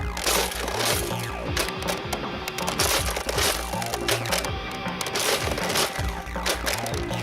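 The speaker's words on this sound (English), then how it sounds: "it makes a great deal of noise on firing this blaster" Nerf Vortex Revonix 360 blaster launching Vortex discs, a loud rapid clattering and cracking mechanism with repeated bursts of shots and plastic rattling.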